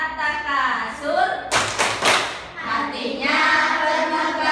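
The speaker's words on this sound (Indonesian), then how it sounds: "marilah kita tepuk surat At-Takasur dulu" A classroom of students performs a rhythmic clapping chant about Surah At-Takasur during an Islamic studies lesson. Sung voices carry the tune, with a burst of sharp, loud hand claps in the middle.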